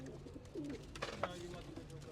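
Pigeons coo softly in a loft, a few low throaty calls close by, with a person talking over them.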